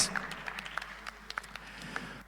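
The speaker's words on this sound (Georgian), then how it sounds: "მაინც აპლოდისმენტებით შევხვდეთ მიუხედავად აქ რომ არ არის" Scattered, fairly faint clapping from a conference audience, a light patter of separate claps over about two seconds with no voices.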